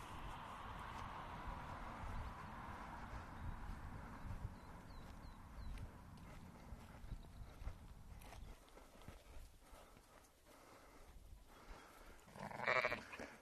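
Sheep on an Irish farm bleat intermittently while wandering loose around the yard, calls mixed with hoof shuffles and rustling, mostly moderate distance with one loud close bleat near the end.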